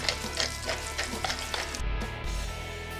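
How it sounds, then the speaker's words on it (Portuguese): Mushrooms sizzle and fry in olive oil in a pan, a steady hissing crackle with a few sharper spatters, close and continuous, with no talking. "Um pouquinho de azeite de oliva na frigideira"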